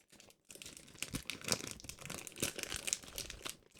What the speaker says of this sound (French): Les bruits de papier.